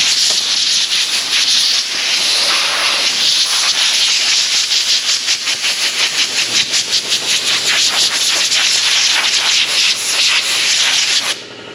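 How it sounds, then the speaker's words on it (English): An air compressor blows a steady, loud hiss of air across a 2019 Ram 1500 5.7 engine to clear spilled fuel, with rapid pulsing flutter midway before the airflow cuts off at the end. "Compressor powering down."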